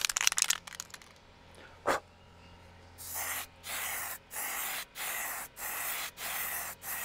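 Brilliance laser ink coating sprayed from a can onto metal in a series of six even, steady hissing bursts about a second each, with short gaps between, after some brief rustling and a single clack.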